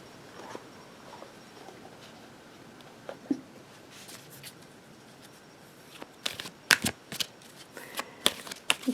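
Angel Answers and Oracle cards being shuffled for a tarot reading, soft quiet riffling at first building into a run of sharp, close card snaps and flutters toward the end.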